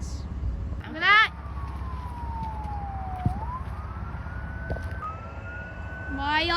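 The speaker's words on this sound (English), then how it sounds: "follow me cars are like, they use their sirens to like confuse pilots" A siren on an airport follow-me car at John Glenn International Airport gives a long, slowly sliding wail heard at a moderate distance, with brief bursts of nearby talk at the start and end.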